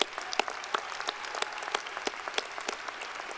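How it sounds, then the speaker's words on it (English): A graduation crowd at a Coastal Carolina fall commencement ceremony breaks into steady, dense applause, many hands clapping together in a continuous wash that holds throughout without any voices. "let's give ourselves a round of applause"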